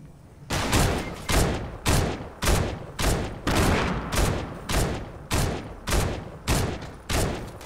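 Rapid gunfire in Fortnite Season 5: about a dozen loud, evenly spaced shots in a steady rhythm, each a sharp crack with a short tail, with no talking.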